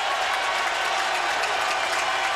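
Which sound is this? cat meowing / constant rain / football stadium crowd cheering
football stadium crowd cheering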